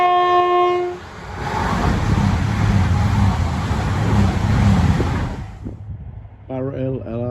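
A class 57 locomotive passes dragging two class 20s and a class 37, a loud steady rumble and rush of the train for several seconds, preceded by a horn note and followed by a brief voice.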